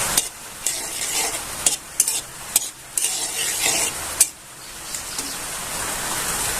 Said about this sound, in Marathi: तीन स्पून असं मी गावरान तूप घालून घेतलेली आहे काजू बदामचे तुकडे घालून घ्यायचे शेंगदाणे घालून घ्यायचे छान असे परतून घ्यायचे